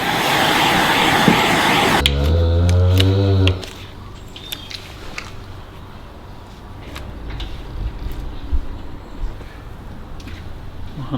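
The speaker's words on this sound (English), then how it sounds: "Now we're going to dry it off quickly with blowtorch." A blowtorch roars loudly for about three seconds while drying a cow's hoof, then cuts off, leaving faint knocks and handling sounds.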